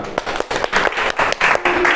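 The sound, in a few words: audience applauding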